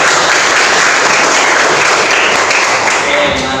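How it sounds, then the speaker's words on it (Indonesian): Dense, loud applause from a class of students clapping for presenters in a classroom, a continuous rush of many hands filling the room without a break. "Tepuk tangan untuk yang sudah presentasi."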